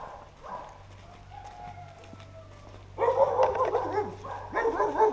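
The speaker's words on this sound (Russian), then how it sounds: "Тут злая собака." A dog in a Serbian village barks in loud bursts from fairly close by, with birds and a low hum behind.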